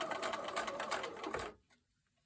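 A sewing machine stitches across the pointed X intersection of a Friendship Star quilt block in a quick, even run of needle strokes, close and clear, then stops abruptly after about a second and a half.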